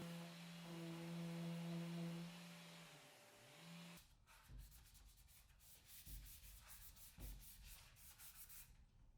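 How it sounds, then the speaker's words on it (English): Hand sanding on a laminate chest of drawers: after a steady mechanical hum fades, close, quiet scratchy rubbing strokes repeat in an irregular rhythm. "So just a little hand sanding there"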